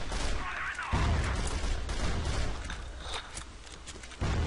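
Grenade blast in the shooter video game CrossFire, heard as two sharp, loud booms with heavy low-end rumble, one near the start and one near the end, amid continuous gunfire and game noise.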